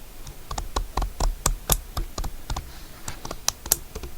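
A ratchet wrench makes a rapid series of sharp mechanical clicks, irregular and close, as it is worked back and forth.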